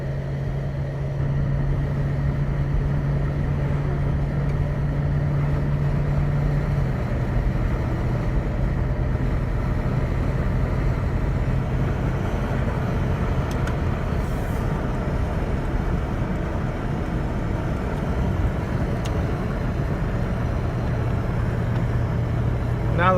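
A Toyota Tundra engine idles steadily after a belt replacement, a continuous low hum with a faint steady tone, heard close up with no knocking.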